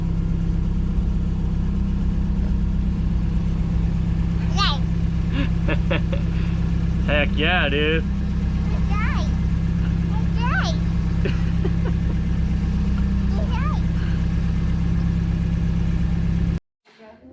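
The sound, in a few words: 1986 Toyota pickup truck engine idling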